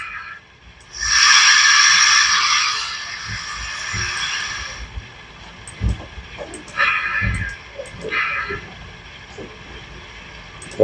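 A Bachmann 4-6-0 model steam locomotive's speaker gives a loud hiss of released steam lasting a few seconds, then two shorter, fainter puffs follow amid light mechanical clicking.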